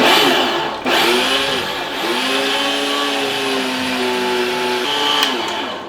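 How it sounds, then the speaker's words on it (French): Electric meat grinder running steadily as meat is pushed through the funnel for burger patties, a sustained mid-pitched motor whine with shifting tonal harmonics as the load changes, close and loud without talk. "La viande dans l'entonnoir. Machine marche."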